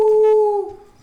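A person imitating a wolf howl, a single loud sustained tonal howl that holds steady, then drops and trails off.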